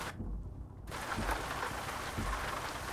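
Steady broadband rain drums on a Hennessey VelociRaptor 6x6 truck in Euro Truck Simulator 2, heard from the cab with a window open, with the patter briefly muffled near the start before returning as a constant, close hiss.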